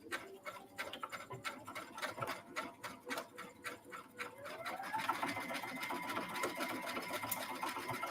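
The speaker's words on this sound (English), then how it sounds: "I do need to just sew a little bit more down here along that underarm." A domestic sewing machine stitches along the underarm of a child's ruffled Christmas dress. It chatters in a close, rhythmic pulse that quickens into a steady continuous whir partway through.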